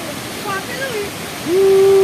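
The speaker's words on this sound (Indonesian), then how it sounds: "Terkena cipratan air dari air terjun." Constant broadband roar of a waterfall at Telunjuk Raung, Banyuwangi, loud and close, with a faint tonal whine rising near the end.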